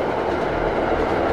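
A train rolls past at close range, a loud continuous rumble with rhythmic clickety-clack of wheels over the rails.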